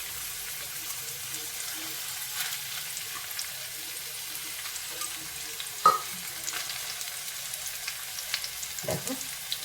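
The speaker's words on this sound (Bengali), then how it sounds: "এই সাইডে মাছটা একটু হালকা করে ভেজে নেব" Fish rubbed with salt and turmeric fries gently in hot oil, giving a soft, steady sizzle with a few small pops and clinks of a utensil, fairly quiet and continuous.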